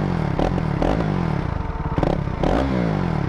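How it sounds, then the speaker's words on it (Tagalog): KTM RC 390 sport motorcycle fitted with a new exhaust pipe, revving up in several short blips with a loud, raspy engine note that rises and falls close by, with a steady idle between the revs. "So marinig nyo, solid yung tunog ng rev bump nya."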